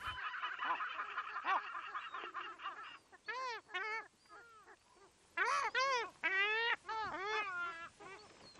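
Dalmatian pelicans at a nesting colony on an island in the Danube Delta, giving a chorus of harsh, honking, bird-like calls in repeated bursts, some loud and close, with a steady murmur of other birds behind.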